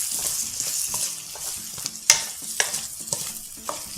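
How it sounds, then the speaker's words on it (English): Potatoes folded into crushed chili and black pepper in a sizzling pan: close, steady scraping and turning over a bright frying hiss, punctuated by a few sharp utensil clicks, with no voices. "Now add the potatoes, fold them together."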